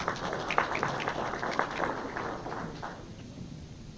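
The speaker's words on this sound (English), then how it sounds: "Round of applause for Alex, he'll be watching." Audience applause at an awards banquet: a steady wash of clapping from a room of guests, fairly even and moderately loud, thinning out toward the end.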